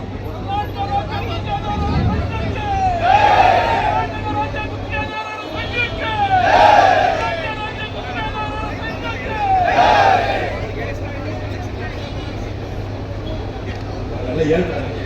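A protesting crowd at a Karnataka contractors' rally sends up repeated swells of cheering and shouting over a steady, distant hubbub of voices.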